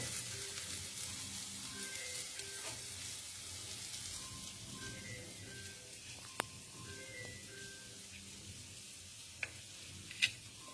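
Spice paste sizzles and crackles as it fries in a pan, a soft, steady hiss with faint background tones and a few sharp clicks from utensils near the end, no speech.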